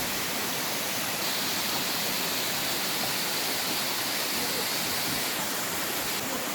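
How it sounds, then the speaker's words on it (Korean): A steady, dense rush of falling water from Gyeonan Waterfall fills the air, loud and unbroken throughout. "시원한 물줄기가 뽑아내고 있는 경쾌한 소리"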